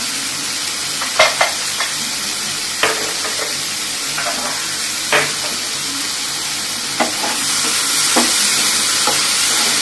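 Aloo curry of potatoes, tomatoes and a little sugar sautéing in a pan, a steady sizzle with repeated sharp scrapes and clinks of a ladle stirring, no one talking.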